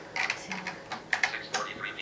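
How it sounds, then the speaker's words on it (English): Keys clack on a one-handed computer keyboard in short irregular bursts of taps, close and crisp, with small pauses between clusters of presses. "Use a one-handed keyboard."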